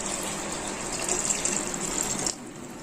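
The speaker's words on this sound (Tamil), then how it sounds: "2 டம்ளர் தண்ணி சேர்த்துக்கிடலாம்." Water gushes steadily into a biryani pot during cooking, a loud close splashing pour that runs for about two seconds and then stops abruptly.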